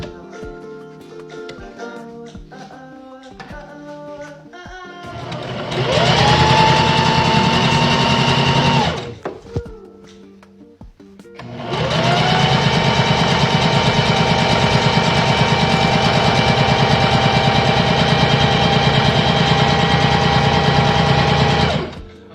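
A sewing machine stitches a fabric tote bag in two loud, steady runs of rapid mechanical whirring, broken by a short pause around the midpoint while the fabric is turned at a corner.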